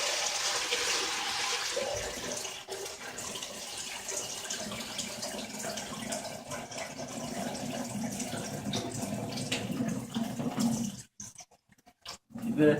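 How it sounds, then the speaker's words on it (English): Water pours steadily into a tank with a continuous, moderately loud rushing splash, then cuts out into near silence with a few brief bursts at the end. "I'm filling the tank until 10 centimeters."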